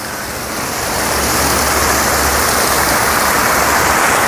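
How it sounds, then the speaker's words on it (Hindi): A small waterfall at Al Qasba Canal in Sharjah pours out a dense, steady rushing roar that swells within the first second and then stays loud and even. "ये देखें कितना प्यारा वाटरफॉल"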